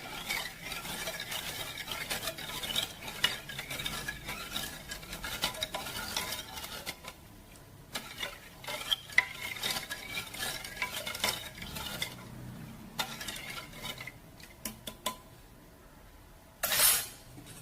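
A spoon stirs rice and sugar in a pressure cooker pot to dissolve the sugar for palpayasam, giving close, steady scraping and clinking against the metal with brief pauses.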